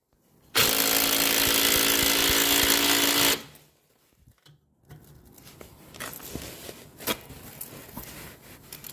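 A power tool drives in a screw during installation of a Linear LDCO850, heard as one loud, steady whirring burst of about three seconds, followed by quieter handling clatter and rustling.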